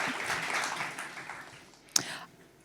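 Conference audience applauding at a lightning talks session, a dense wash of clapping that fades over the first second and a half, with one sharp louder clap near the end.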